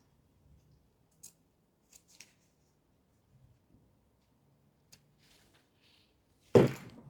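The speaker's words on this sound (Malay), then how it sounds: "Ya, potong dua-dua bahagian lah." Scissors cut kebaya fabric with a few faint, sparse snips spread through a quiet stretch, then a loud close thunk at the end.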